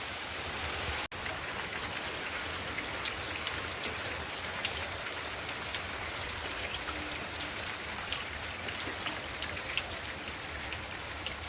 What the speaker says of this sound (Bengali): দেখলাম সাংঘাতিক বৃষ্টি শুরু হয়ে গেছে আর কি।